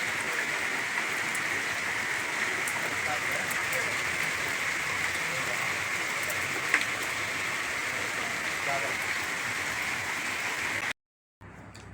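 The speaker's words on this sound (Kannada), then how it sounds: "ಈಗ ರಾತ್ರಿ ಫುಲ್ ಮಳೆ ನೋಡ್ರಿ" Heavy, steady rain falling at night with no wind or thunder, a dense unbroken hiss of drops on surfaces that holds at an even level throughout before cutting out briefly near the end.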